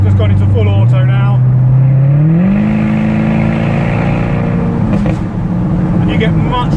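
Jaguar F-Type engine driving in full automatic mode, a loud close exhaust drone climbing in stepped pitch as it shifts through the gears, with only a little burble.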